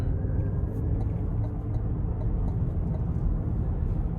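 A 2026 Cadillac Optiq in sport mode accelerating, heard from inside the cabin as a steady low rumble with road and wind noise, fairly loud and without talk.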